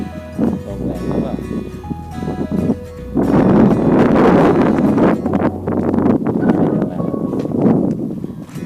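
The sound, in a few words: strong wind blowing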